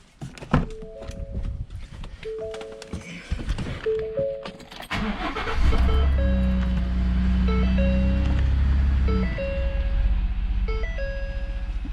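A 3.5 EcoBoost V6 in a Ford F-150 pickup cranks after a few electronic chimes, catches around the midpoint, and settles into a steady, smooth idle close by, after a misfire repair.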